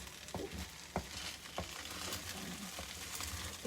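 Quiet scraping and sizzling as rice is stirred in a hot wok while cooking Arab rice, with soft irregular knocks of the utensil against the pan.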